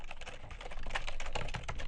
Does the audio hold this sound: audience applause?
no